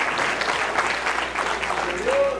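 A wedding crowd claps steadily in sustained applause, dense and even throughout, with a faint voice briefly rising near the end.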